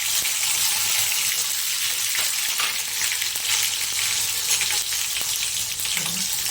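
Loud, steady hissing sizzle from hot oil and mustard seed tempering after water hits the pan, crackling continuously and up close with no talking.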